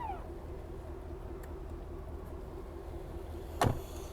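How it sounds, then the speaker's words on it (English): A 2023 Chevrolet Tahoe Premier's power-folding third-row seat motor hums steadily, ending in a sharp close thud as the seat settles near the end, with no talking. "This is our second row seat fold, and then our power fold for the third row."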